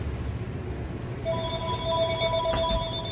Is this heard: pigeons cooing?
no